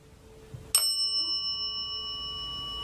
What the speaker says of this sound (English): The bell just rang.